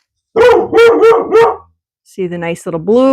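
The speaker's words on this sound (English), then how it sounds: "Sorry about the dog." A small indoor dog barks in a quick series of sharp, loud yaps, pauses, then lets out a few more higher yips and whines as a person speaks nearby.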